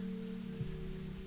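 Soft, steady rain ambience from a video game about laborers mining metal in deep tunnels, with a low sustained musical drone underneath throughout.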